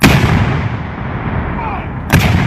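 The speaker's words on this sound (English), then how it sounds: "And that, ladies and gentlemen, is how you fire cannons." Civil War cannons firing at a 2017 living-history program, with a loud booming blast and long rumbling decay, followed by a second blast about two seconds later.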